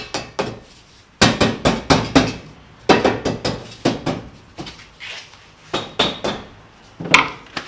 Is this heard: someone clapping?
no